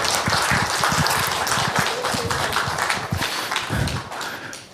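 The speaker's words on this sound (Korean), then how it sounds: "박수 한번 쳐주세요" Audience applause at a church retreat seminar, a dense burst of many hands clapping close and loud for a few seconds before tapering off.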